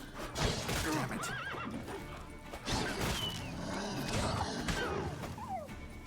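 In The Witcher 3 video game, a horse neighs and whinnies loudly several times while its hooves clip-clop, mixed with thumps and crashes from the game.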